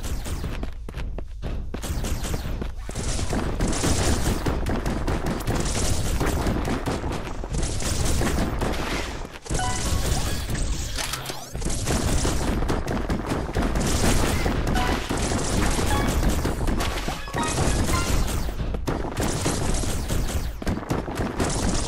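Gunfire in the Virballs video game, a dense and steady barrage of shots and impacts layered over game music, loud and continuous with only brief breaks.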